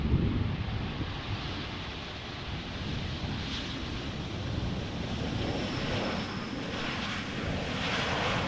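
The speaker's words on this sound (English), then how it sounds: "Right, Embraer 190 arriving from Berlin." An Embraer 190 jet arriving from Berlin at Amsterdam Schiphol roars steadily throughout, loud and broadband with wind rushing across the microphone and no voices.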